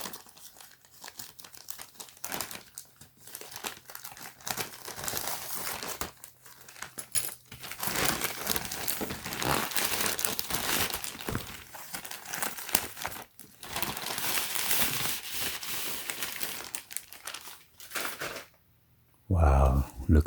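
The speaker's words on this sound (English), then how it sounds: "So I'm gonna cut out this side open." A DHL shipping package from China is cut open, with close crinkling, tearing and rustling of packaging that runs almost without a break and ends in a short thump.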